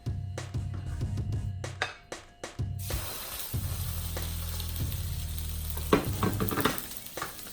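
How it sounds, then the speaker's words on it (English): Steak hitting a hot pan, with clatter and handling noises first, then a steady loud sizzle of frying meat continuing to the end, with no talking. "When I throw on the steak, it's going to sizzle perfectly"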